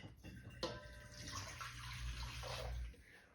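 Warm water pours steadily into a bowl after a brief clink, a continuous rushing splash that fills the clip before tapering off.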